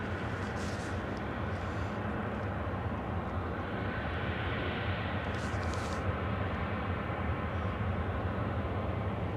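A Douglas DC-3 propeller airliner at Anchorage airport drones with a steady, loud engine roar that holds evenly throughout, with no voices.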